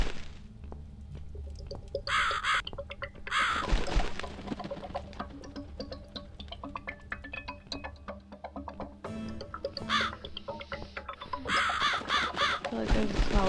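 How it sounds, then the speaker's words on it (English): Crow caws in the horror video game The Cat Lady, harsh calls recurring over a steady game backdrop of drips and ambient tones, with bursts of louder noise at intervals. "Follow the bird."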